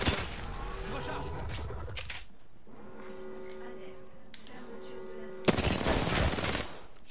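Rapid automatic gunfire in the video game Apex crackles in two loud bursts, one at the start and another near the end, separated by a quieter stretch of softer in-game sounds.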